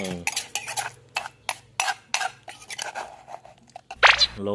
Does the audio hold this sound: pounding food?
yes